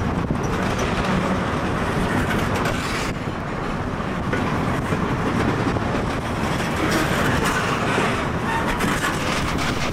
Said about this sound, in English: It was being led by the Soul Reading and Northern number 2004, an ex-Detroit, Toledo, and Ironton EMD SD38.